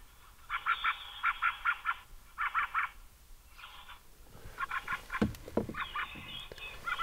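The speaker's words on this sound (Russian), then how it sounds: "Птицы еще перебивают сигнал." Bird calls sound in a horror video game set in a mysterious manor: short honking chirps in rhythmic clusters, fairly faint, with a brief crackle partway through and no voices.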